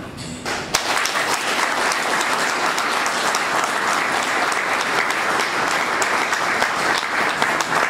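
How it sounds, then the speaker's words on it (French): After a brief pause, an audience at a partnership signing ceremony bursts into steady, sustained applause, dense and loud, holding evenly to the end. "Je vous demande d'applaudir."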